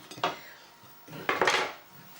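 Knife slicing the top off a courgette on a board while making pickled courgettes; two short close cutting strokes with a light knock, about a second apart.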